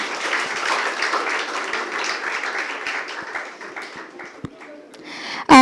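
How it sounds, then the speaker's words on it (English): An audience at an international life sciences conference applauds to welcome a speaker, a round of clapping that thins into scattered claps and taps before ending with a sharp loud knock. "Please welcome him with a huge round of applause."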